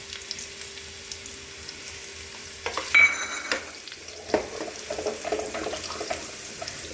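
Onions and garlic sizzle and fry in a pan while making Punjabi sarson da saag, with a steady close crackle, a few louder clatters of stirring and scraping in the middle, and bursts of spitting after; no voice is heard.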